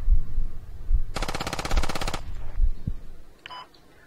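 A burst of full-auto rifle fire in the video game Squad rattles fast and loud for about a second, with heavy thumping movement noises before and after and a faint short sound near the end.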